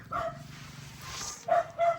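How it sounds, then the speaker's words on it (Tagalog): Pet dogs and a puppy at feeding time give a few short, close barks and yips, one at the start and two quick ones near the end, over faint background murmur. "papakainin na natin yung ating mga alagang aso"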